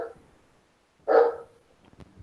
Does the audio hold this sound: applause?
no